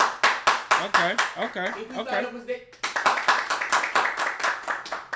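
A person briefly talks, then claps sharply and repeatedly in a quick rhythm, loud and close, with the claps continuing after the talking stops.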